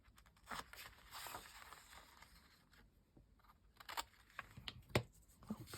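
Scissors cut the corners of a small paper border for a junk journal pocket insert: a few short, close snips and light paper rustles with quiet pauses between them, and no talking.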